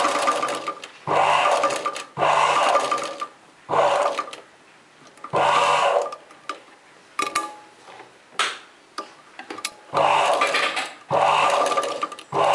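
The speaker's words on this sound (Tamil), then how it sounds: "இப்போ வந்து நம்ம நீடில் அதிலே கிளாத்தில் விட்டுட்டு இன்னொரு லைன் போட்டுக்கலாம்." A sewing machine needle stitches an embroidery line on cloth for a chudidar neck design, whirring in repeated short runs with brief stops between them, close and clear.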